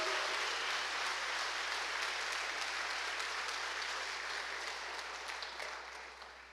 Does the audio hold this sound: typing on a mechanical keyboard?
no